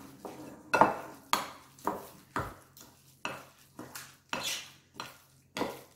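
Roughly stirring cottage cheese casserole ingredients in a bowl with a utensil, about ten scraping clinks repeating in a steady rhythm, close and moderately loud, with no talking.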